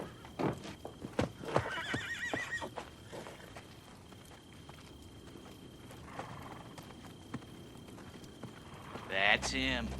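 Horse whinnies and hooves clip-clopping in a Western drama, with short neighs early and near the end, set among dialogue and ambient movement.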